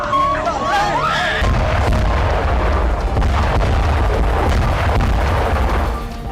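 A series of deep, heavy bomb explosions rumble continuously over distant shouting and commotion in a war setting, loud and chaotic throughout.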